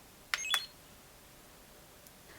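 A Paul Mitchell Neuro Smooth 1-inch flat iron beeps as it heats up, two quick faint electronic beeps close together, then a small extra blip in a quiet room.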